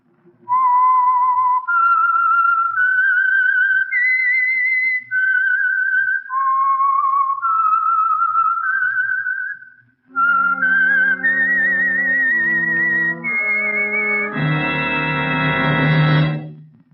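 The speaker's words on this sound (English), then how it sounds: "the signal to listen for is this whistle" A clear, close whistled theme tune from the 1949 radio program The Whistler, carried alone in long sustained notes, then joined by a swelling orchestral chord at the end.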